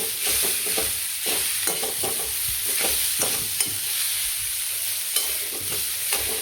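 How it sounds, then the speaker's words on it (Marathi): Grated coconut from two coconuts stirred in a hot pan for a festival offering, a steady scraping shuffle of the spoon over a constant dry sizzle, close by and continuous with no voices. "दोन नारळाचा खोबरं आहे हलवून घेते"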